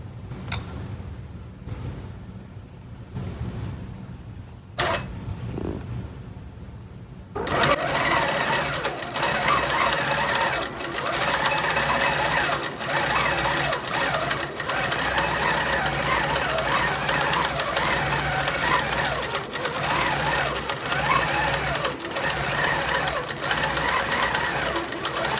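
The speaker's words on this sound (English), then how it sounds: "And now we're gonna hit sew." A longarm quilting machine starts sewing after a few faint clicks, then runs continuously with a rapid, steady mechanical ticking and whir, close and fairly loud, with a voice faintly heard at times.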